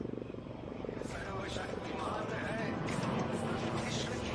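The HAL Prachand light combat helicopter drones and whirs at a distance, fairly faint, with a voice speaking over the engine noise at the Aero India 2023 air show in Bangalore.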